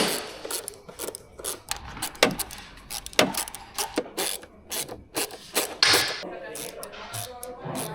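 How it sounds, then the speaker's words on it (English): Hose clamp being loosened on the air filter cover of a Citroen Xsara Picasso 2.0 HDI in the engine bay: close, irregular ratcheting clicks and metallic mechanism snaps, some louder, with no talking. "And here is this clamp that needs to be loosened to remove the cover."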